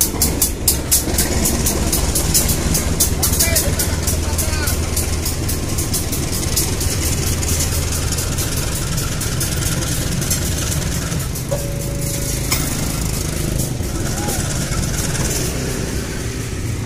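Diesel locomotive THB 8901 idles at an Indonesian railway, a steady low rumble that continues loud and unbroken. A brief tone sounds partway through and no one speaks.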